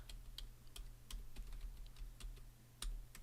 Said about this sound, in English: I'm going to type in watercolor backgrounds